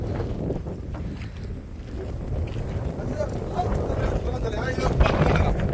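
Strong, steady wind roars across an exposed high viewpoint at a statue, buffeting the microphone as a continuous loud rush with gust swells throughout.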